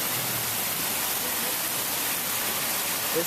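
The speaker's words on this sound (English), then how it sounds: "It's raining right now." Steady hiss of heavy rain pouring down during a severe thunderstorm in Chicago, a dense, even wash of noise with no distinct drops standing out, constant throughout.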